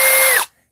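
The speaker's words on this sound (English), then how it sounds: "Who needs a drill?" Cordless drill whirring briefly at high speed close by, a short burst that winds down and cuts off abruptly, leaving silence.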